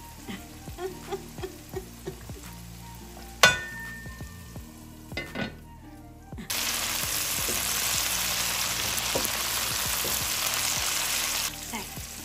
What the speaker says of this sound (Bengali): আমি একটু ঢেকে দিয়ে কিছুক্ষণ পর পর নেড়ে নেড়ে পেঁয়াজ এবং টমেটোটাকে আমি একটু নরম করে নিচ্ছি